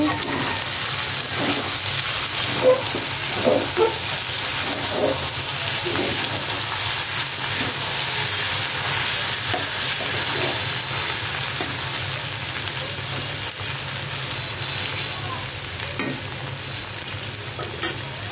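Beef tripe frying in plenty of oil in a wok, a loud, steady sizzle with repeated stirring scrapes and crackles running throughout.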